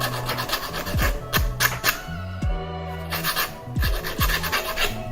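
A model train wheel is smoothed on a lathe, giving repeated close rasping and filing strokes against the spinning metal, with a steady low motor hum underneath and brief pauses between passes.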